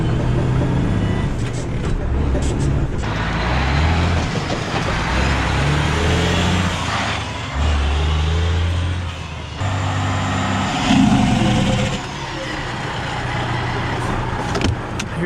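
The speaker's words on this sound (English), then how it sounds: "here's Master Trucker, Super Trucker Brown, floating gears in a parking lot" A junkyard Chevy Impala wagon with a 10-speed transmission drives around a parking lot while gears are shifted, its engine droning loudly and rising and falling between shifts, with people talking over it.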